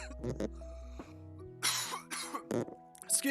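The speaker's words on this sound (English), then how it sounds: "Ooh, I was coughing there." A few sharp coughs break up a stretch of speech, with talking resuming right after.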